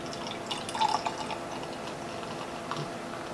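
Brewdog Funk x Punk beer poured from a bottle into a glass, with a soft trickling, dripping stream and a brief splashier burst near the start, fairly quiet and close, with no talk.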